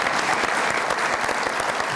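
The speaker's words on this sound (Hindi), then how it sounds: "बहुत सारी तालियां" Studio audience applause on a comedy talk show, a dense, steady wash of many hands clapping throughout, close and fairly loud with no speech over it.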